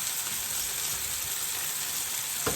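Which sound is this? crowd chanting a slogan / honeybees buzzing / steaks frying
steaks frying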